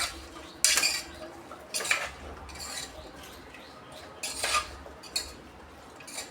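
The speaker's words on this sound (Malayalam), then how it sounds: "ഇത് നല്ലപോലെ ഒന്ന് ഇളക്കി കൊടുക്കാം" A spoon scrapes and clinks against a pot while Kerala-style beef curry is stirred, a few sharp metallic knocks spaced irregularly over a quiet kitchen background.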